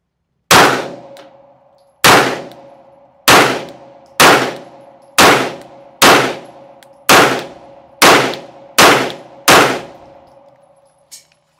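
CZ P-09 pistol fired at a target from seven yards, a steady string of ten loud, sharp shots spaced about a second apart, each with a ringing metallic tail, no talk.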